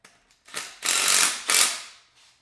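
A ratcheting screwdriver turning to loosen a car's belt tensioner gives a few quick close clicking bursts, two longer ratchet runs in the middle, then a soft tail.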